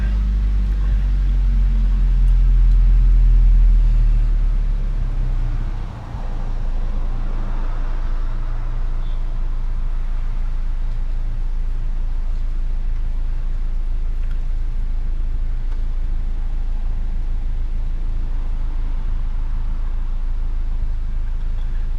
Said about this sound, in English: Now we're going to let it idle for 1 minute.